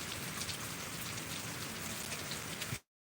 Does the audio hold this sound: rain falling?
yes